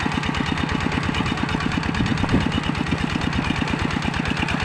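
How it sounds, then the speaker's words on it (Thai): A walk-behind tractor engine chugs steadily nearby while ploughing a flooded rice paddy at the field's edge, its rapid even putter running loud and unbroken throughout. "รถไถหน้าเดินตามเด้อรถไถหน้าเดินตาม"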